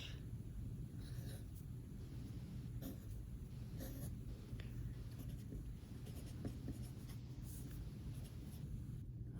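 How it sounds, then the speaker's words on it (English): A pen or pencil scratches steadily across paper while a quick anatomy sketch of the zygomatic arch of the skull is drawn by hand, a soft continuous rubbing over low room hum with no talking. "So let me draw you a quick picture of that."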